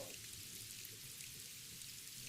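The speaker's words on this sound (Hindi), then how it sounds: "मीनू, पिछले 1 महीने से लगातार बारिश हो रही है।" Steady rain pours down in a Hindi cartoon, an even, continuous hiss of falling drops with no voices over it.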